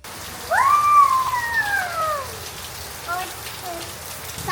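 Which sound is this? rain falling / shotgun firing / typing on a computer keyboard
rain falling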